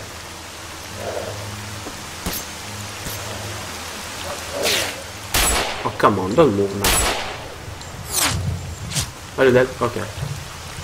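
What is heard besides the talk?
rain in video game S.T.A.L.K.E.R. Call of Pripyat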